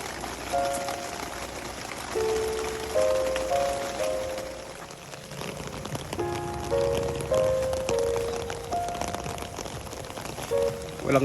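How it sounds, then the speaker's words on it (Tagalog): Heavy, steady rain drums on a tent at a foggy campsite in View Scape Nature Park, a continuous close patter that does not let up, with faint musical tones running underneath. "Walang tigil yung ulan dito sa campsite."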